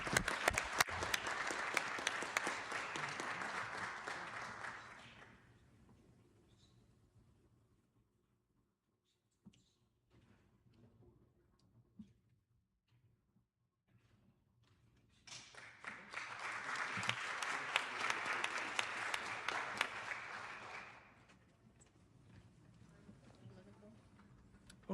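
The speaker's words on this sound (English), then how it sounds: "Let's give him a round of applause." A city council meeting audience breaks into applause twice, each a roomful of clapping lasting several seconds, separated by a quiet stretch with only faint room noise.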